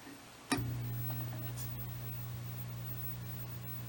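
A 1960s vacuum tube test pattern generator sits in standby, giving off a steady low electrical hum with faint buzzing overtones after a sharp click at switch-on, continuing evenly under light background hiss.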